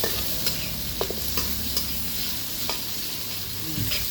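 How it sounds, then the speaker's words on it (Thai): Pork stir-fried with garlic in a hot pan sizzles loudly and steadily, with repeated sharp scrapes and knocks of a utensil stirring the meat, close up and with no talking. "ผัดหมูของเราหอม หอมกระเทียมมา"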